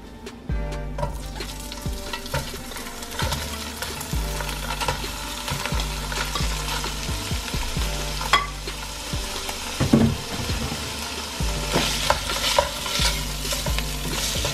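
Sausages browning in their own fat in a pan, a loud, continuous close sizzle with a rhythmic low scraping of stirring underneath.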